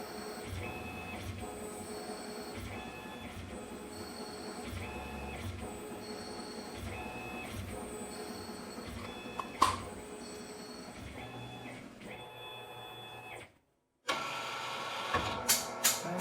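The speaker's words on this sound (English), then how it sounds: "Next up is the M8 thread. We're going to cut that in 8 passes." A Tormach lathe cutting an M8 thread in several passes: a steady mechanical drone with repeating stepped whining tones as the carriage moves, a brief silence, then clattering bursts.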